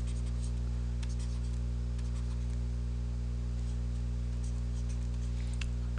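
A pen scratches across paper while a circuit diagram is drawn by hand, soft intermittent strokes and taps over a steady low electrical hum.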